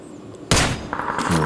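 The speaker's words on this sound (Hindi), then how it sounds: "तो स्नाइपर का शॉट मारता हूँ उसको।" A Kar98 sniper rifle shot in PUBG PC on Erangel, one sharp loud crack followed by a lingering tail and a second fainter report, heard up close.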